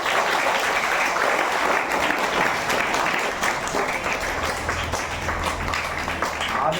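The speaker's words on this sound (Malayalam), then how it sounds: "നല്ലൊരു കയ്യടി നമ്മളെ വേണുവേട്ടന്." Sustained applause from a gathered audience honouring a guest at the closing ceremony of a ten-day swimming training camp run by a fire and rescue unit, steady and dense throughout, tapering slightly toward the end.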